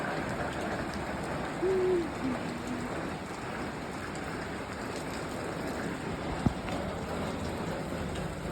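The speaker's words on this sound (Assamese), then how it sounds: "পুৰা বৰষুণ চাওক আমাৰ জিলা বৰষুণত কেনেকুৱা লাগে" Heavy rain pours steadily in an outdoor setting during monsoon weather, a dense continuous hiss of drops. A short hooting call rises briefly early on and a single sharp knock sounds near the end.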